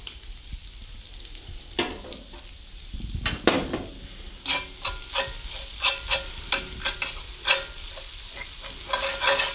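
Salt, cumin and paprika sizzle loudly in hot oil as a spoon stirs and scrapes the pan in quick, repeated knocks over a constant crackling hiss.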